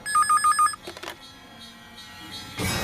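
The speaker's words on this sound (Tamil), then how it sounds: "மறுபடியும் சங்கர் தான் ஃபோன் பண்றேனா?" A telephone rings in a Tamil TV serial scene, four even electronic trill pulses up front, followed by brief clatter, a low hum and a rising hiss, with no talk.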